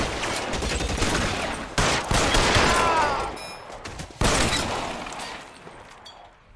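Dense gunfire from the L.A. Noire video game, sustained rattling volleys with sharper cracks and bursts that fade toward the end, loud and continuous.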